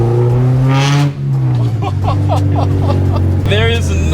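A K-swapped Honda EG Civic engine revs in a lightweight chassis, a steady loud drone that rises in pitch, with a voice talking over it.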